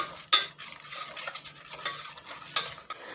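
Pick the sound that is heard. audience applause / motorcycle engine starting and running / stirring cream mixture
stirring cream mixture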